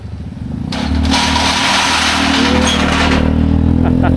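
A motorcycle rumbles across an iron bridge whose steel plates clatter loudly beneath it, the rattling metallic din swelling after the first second and holding steady to the end.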